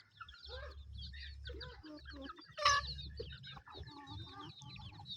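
Chickens cluck in short, repeated calls with busy bird chatter, and one louder squawk stands out near the middle. A low hum runs underneath, and soft voices are heard faintly in the background.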